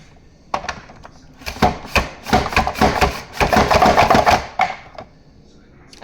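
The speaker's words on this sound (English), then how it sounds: "I'm gonna slice these up for our nice pickle" Cucumbers are sliced for refrigerator dill pickles on a Rapid Prep mandolin, a close run of quick, scraping strokes that speed into a dense, steady rhythm before tapering off, with no talk.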